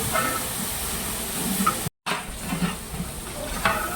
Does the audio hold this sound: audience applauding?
no